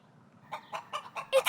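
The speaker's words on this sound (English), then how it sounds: "It's a hen." Hen clucking in a cartoon farmyard, a short run of five or six close, rhythmic clucks rising toward a louder final pair, with no talk over it.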